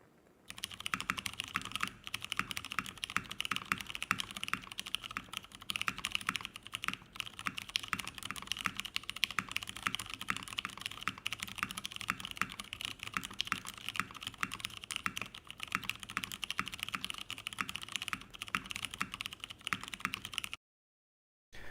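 Steady, dense typing on a top-mount mechanical keyboard, close and clear, with rapid continuous keystrokes and no talk, ending in a brief silence.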